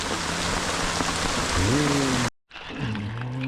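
Heavy rain pours down in a loud, steady roar, with a sliding whine rising underneath and a brief cut to near silence before the downpour resumes.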